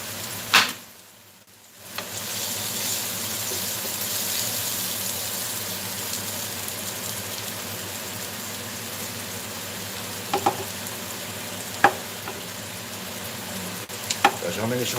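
French fries frying in hot oil on a stovetop, a steady broadband sizzle running throughout after a brief quiet dip near the start, with a few sharp clicks and clatters of kitchen utensils toward the end.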